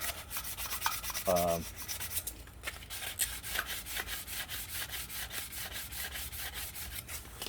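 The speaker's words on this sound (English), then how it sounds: "this is 320 grit sandpaper too" Someone hand-sands an e-bike brake rotor with 320 grit sandpaper to deglaze it. Steady, quiet back-and-forth rubbing strokes repeat in a regular rhythm close to the listener.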